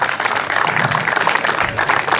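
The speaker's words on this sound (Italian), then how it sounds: "Un applauso." A crowd at the podium ceremony of the first slalom of Morano in Pollino bursts into dense, loud applause, steady clapping filling the short moment.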